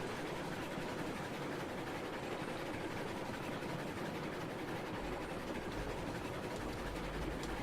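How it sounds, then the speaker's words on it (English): A train rolling along the rails in the game Railroads Online, a steady low rumble with faint clatter, continuous and moderately distant, a heavier drone swelling near the end. "Just got my train driving itself right now whilst I go and flick the points for it."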